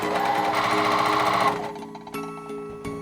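A sewing machine stitches kimono fabric, a close, buzzing run of rapid stitches that lasts about a second and a half and then stops, followed by a few sharp clicks and knocks.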